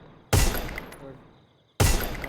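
Two heavy gunshots from the Free Fire video game crack out loud and close, the first ringing into a long fading tail before the second bursts in.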